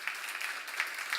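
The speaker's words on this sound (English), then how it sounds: "Can we give the people who decorated the church just a huge round of applause?" Church congregation applauding the people who decorated the sanctuary for a Christmas offering service; a dense, steady wash of many hands clapping at moderate distance, brief and continuous without any voices.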